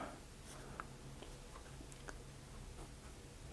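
Pilot Kakuno fountain pen with a medium nib moving across paper, giving soft, faint scratchy strokes with small ticks close to the mic, over a low steady background hum.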